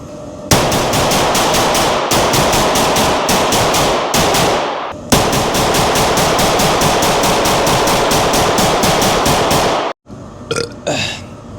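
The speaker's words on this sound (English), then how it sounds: "I'm gonna shoot my little 22 now." A small .22 caliber gun fired at a shooting range late at night: loud, rapid strings of shots in long back-to-back bursts with brief pauses, close and dominant, no talking.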